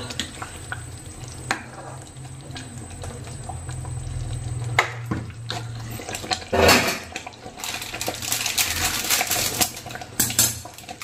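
Cooked leftover rice being scraped and shifted from one pot into another vessel with a spoon for vangi bath, a steady run of metallic scraping, clanks and stirring noises up close, with no talking.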